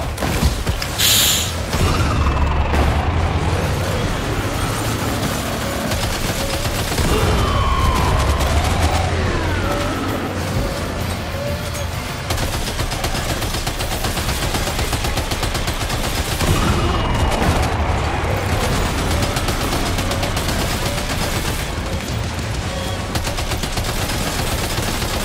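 Dense, continuous gunfire and mechanical clatter in the Death Stranding 2 video game, loud and close throughout with no pauses and no talking.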